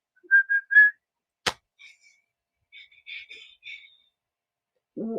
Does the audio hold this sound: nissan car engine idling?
no